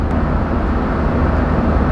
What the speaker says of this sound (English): this is the sound of the wheels at 95 kilometers an hour